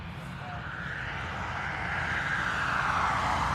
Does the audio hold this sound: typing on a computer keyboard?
no